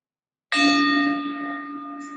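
A meditation bell is struck once after a moment of silence, its clear metallic tone ringing out loud and then slowly fading with a long, steady sustain.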